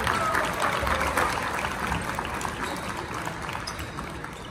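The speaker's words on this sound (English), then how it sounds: "They're clapping." Scattered clapping from a group of players and staff at a college basketball practice, steady and moderately close, with some background chatter and gym noise mixed in.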